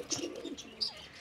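Black desi pigeons, a breeder pair, give soft cooing calls, a few brief faint coos with a couple of sharper chirps in a quiet space.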